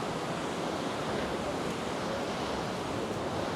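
Rough sea waves break steadily on the shore at Paguera, Mallorca, in a continuous loud, close wash of surf with wind noise and no voices.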